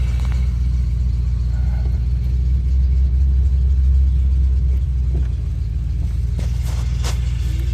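A Foxbody Mustang on Viking coilover springs rumbles low and steady from the cabin while driving, its engine droning under road noise, with a few faint knocks near the end.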